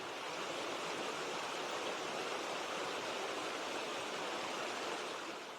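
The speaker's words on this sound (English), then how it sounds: "Okay, guys, you seen the waterfall down there?" A waterfall in the Cranberry Wilderness backcountry of West Virginia gives off a continuous broadband roar of rushing water. It is steady and even throughout, with no talking.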